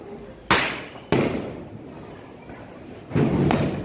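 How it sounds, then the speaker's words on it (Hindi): Diwali firecrackers bursting in a residential street, three sharp loud bangs each trailing into a crackling decay, with a steady background of distant pops and neighborhood noise between them. "सो भाई देखो अभी पटाखे छोड़ने स्टार्ट हो चुके हैं"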